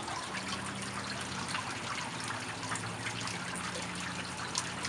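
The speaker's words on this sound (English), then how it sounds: "That sounds worse than light rain." Steady rain falling on a lake, a constant dense patter and trickle of water that holds at the same level throughout with no lulls.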